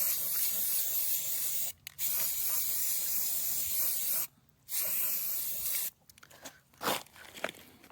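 A rattle can sprays off-white paint onto plastic mermaid shells in several close, loud hissing bursts broken by short pauses, ending in a few shorter sputtering sprays.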